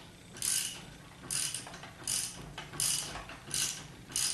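A socket wrench ratchets on a bolt while a Corvette AC compressor is mounted in a 1976 Corvette restomod, giving repeated close, crisp clicking bursts in an even rhythm with no talk.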